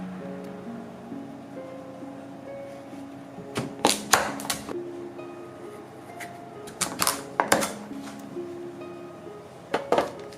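A knife cuts a butternut pumpkin into sections, giving a few short bursts of sharp chopping clacks against a board over a soft, steady tonal background.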